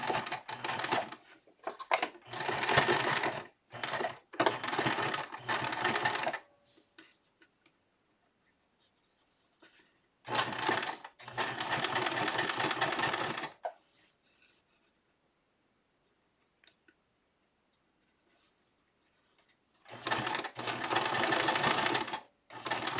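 A sewing machine stitches a seam in doll clothes, running in three separate bursts of rapid, even needle chatter with quiet pauses between them.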